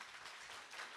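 Applause from an audience at a FEMUA panel session, a soft, dense, distant patter of many hands that holds steady for about a second with no voices over it.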